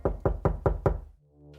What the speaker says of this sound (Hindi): तभी बाहर से किसी ने दरवाजा नॉक किया